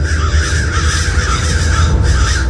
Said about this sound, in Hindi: वही कौवे थे जिन्हें अभी अभी सपने में उसने देखा था।